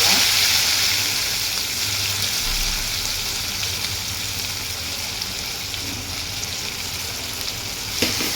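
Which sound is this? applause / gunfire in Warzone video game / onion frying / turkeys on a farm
onion frying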